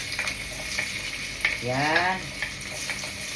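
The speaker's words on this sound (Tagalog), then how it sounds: "Isunod na po na ako ang kay nagpula-pula na ang ahos." Garlic sizzles in a hot dry pot while rice is cooked for breakfast, a steady close crackling fry with a few scrapes of stirring. A voice speaks briefly over it.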